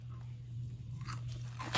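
Crunchy ramen snacks are eaten up close, giving steady crisp crunching and chewing over a low background hum, with no talking.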